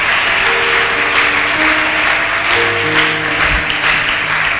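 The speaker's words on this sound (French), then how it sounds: "Est-ce qu'on peut l'acclamer?" Church congregation applauding steadily, a dense continuous wash of clapping throughout, with music and low tones sounding underneath.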